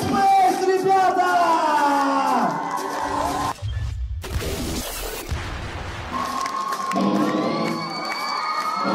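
A crowd cheers and shouts at the Cover King 2015 cover-song contest final, the roar sustained and loud across the whole stretch, with voices and tonal sounds rising over it and a brief dip in the middle.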